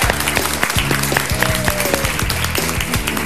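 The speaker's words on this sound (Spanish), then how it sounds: "¡Fuerte aplauso!" A studio audience on a Paraguayan television game show applauds loudly and steadily, the dense clapping blending with a bright musical accompaniment playing throughout.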